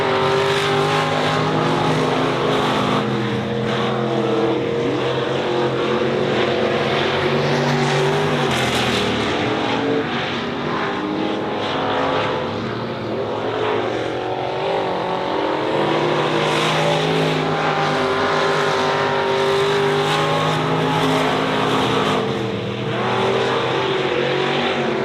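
Stock cars roar around the track in an 8-lap heat race at Honor Speedway. The loud, continuous engine noise swells and fades as the pack passes, with no break for the whole stretch.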